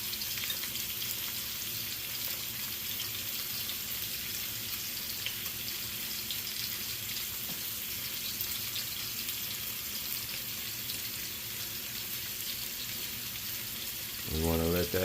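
Cooked cod sizzles in tomato sauce in a pan, giving a steady, soft frying hiss throughout with a faint clatter right at the end.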